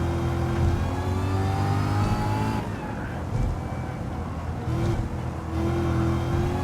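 A supercharged race car engine with a blower and air restrictor drones loud and steady under acceleration, its pitch climbing and dipping briefly as revs change, heard close up from onboard.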